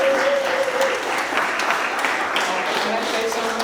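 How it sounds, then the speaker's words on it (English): A dance show audience gives a big, sustained round of applause, dense and loud throughout, with a faint steady tone and some voices mixed in. "give one more big round of applause."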